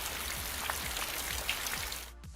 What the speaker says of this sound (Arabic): في هذا التدريب سوف نتعلم عمل تأثير المطر عن طريق برنامج أدوبي أنيميت